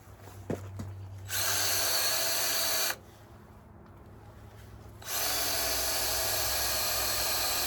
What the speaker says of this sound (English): I just drilled through 3/4 of an inch